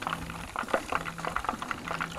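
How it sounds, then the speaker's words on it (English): Crappie fillets fry in a pan, oil bubbling and popping in a fast, crackling patter at close range with no one speaking. "Crappie's a real good delicate fish and you want to try to get it just right when you're frying it."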